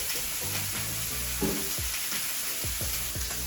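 Calamari sizzling on a hot grill, a steady crackling hiss with small pops and the soft scrape of pieces being moved, close and without talk.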